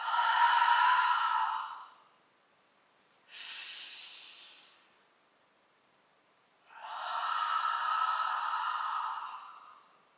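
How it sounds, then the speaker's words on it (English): Three loud, breathy exhales through the mouth during yoga breathing, each lasting a couple of seconds with quiet pauses between them, close and with no other sound. "Exhale loudly through the mouth."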